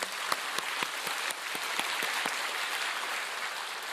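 Church congregation at a Full Gospel church in Daegu claps loudly and steadily during a sermon, a dense, even wash of many hands with a few sharper claps standing out near the start.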